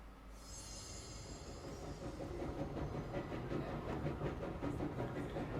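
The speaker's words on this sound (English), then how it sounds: "let's go into the train that the terrorists turned into a spooky train" Train ride in the video game Control, aboard a spooky train car: a steady rumble of wheels on rails with rhythmic clacking and faint squeals, building slightly in loudness and continuing throughout.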